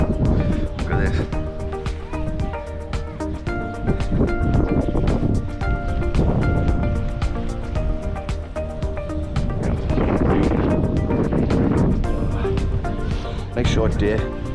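Strong wind buffets the microphone beside open water, a steady loud rumble with gusts, while someone talks over it throughout.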